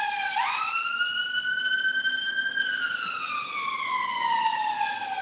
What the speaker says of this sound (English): A lot of ambulance so far.